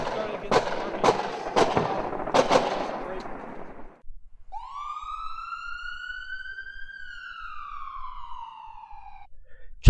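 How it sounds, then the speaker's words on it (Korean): A burst of several sharp gunshot-like cracks in quick succession, followed by a rising and falling siren wail. "총소리 한번 더 들려드릴게. 실감나게 총소리."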